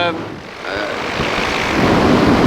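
An EOS Quattro Beta paramotor engine runs in level flight at about 5,000 RPM, a loud, close, continuous propeller drone that builds slightly in strength, with wind rush and no clear speech.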